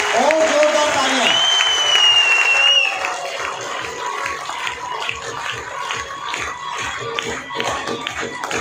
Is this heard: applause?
yes